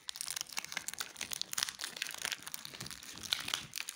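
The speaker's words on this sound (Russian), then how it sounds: "Итак, первая капсула с Бобиком. Сейчас мы ее откроем." Crinkly plastic wrapper of a Kinder Surprise capsule being torn open and crumpled, a steady run of close, dense crackling and rustling for the whole stretch with no talk.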